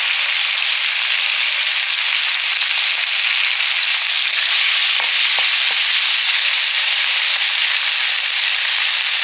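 Green chillies sizzle in hot oil for Bengali ghugni, a steady, loud, hissing fry that runs throughout with a few faint clicks and no voices.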